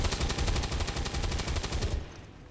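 Rapid burst of rifle fire in XCOM 2, a run of evenly spaced sharp shots, loud and close for about two seconds, then cutting off.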